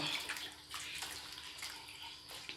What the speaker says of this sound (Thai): แช่น้ำไว้ก่อน แช่น้ำด้วย ในเนี่ยน้ำยาล้างผักเนี่ย แช่ไว้แช่ไว้นานๆเลย